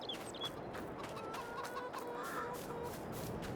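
Chickens cluck steadily in a farm scene from Farming Simulator 22, a soft continuous murmur of fowl noises with occasional higher calls, heard alone without talk.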